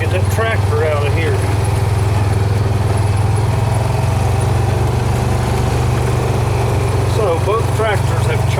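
A farm tractor engine runs steadily throughout, a loud low droning rumble close by, with occasional chirpy animal or bird calls over it.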